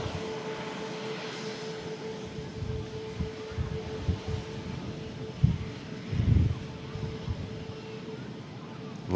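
A Virgin Atlantic Airbus A350 airliner rumbles low and fairly distant under a steady hum, with a few thumps and rustles close to the recorder.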